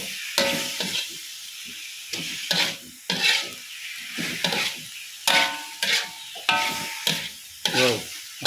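Capcay vegetables stir-fried in a pan with a spatula, a steady loud sizzle broken by rhythmic scraping strokes roughly every second, with no talking.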